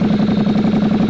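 A 2019 Ducati Diavel S motorcycle fitted with a full exhaust system runs loud and close just after starting, a throbbing, pulsing engine note with a steady uneven beat and no talking.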